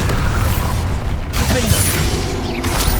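Spell blasts from the video game Hogwarts Legacy: a dense, steady wash of booming explosions and crackling, mechanical bursts fills the whole stretch, loud and close with no pause and no talk.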